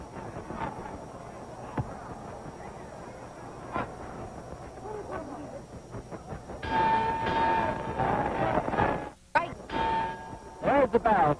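A boxing ring bell clangs to end a round in the Sugar Ray Robinson vs Gene Fullmer fight, ringing out over a loud, noisy arena crowd with a commentator talking.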